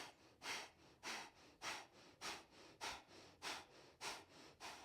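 Slow, deep yoga breaths rise and fall in an even rhythm during a morning wake-up practice, about eight airy breaths heard close up with no talking.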